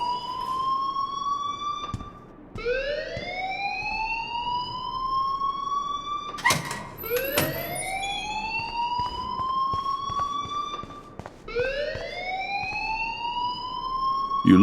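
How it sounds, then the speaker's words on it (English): An alarm rings in the video game Life is Strange, a loud siren-like tone that sweeps upward and holds, repeating in regular cycles with brief gaps and no one talking. "please turn off that alarm since that's your job"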